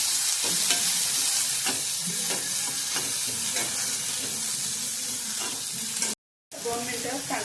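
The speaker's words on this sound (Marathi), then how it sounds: "आता कांदा आधी 2 मिनिटं आपण बिन तेल टाकतात भाजून घ्यायचा आहे" Onion dry-roasts in a pan without oil. A dense, continuous hissing sizzle runs close and loud, with repeated stirring scrapes throughout and one brief dropout near the end.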